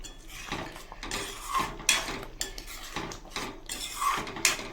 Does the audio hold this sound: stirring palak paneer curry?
yes